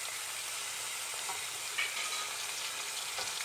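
Lamb meat and ginger garlic paste hitting browned onions in a karahi give a steady, even sizzle and fry throughout, with a few soft stirring clicks and no talk.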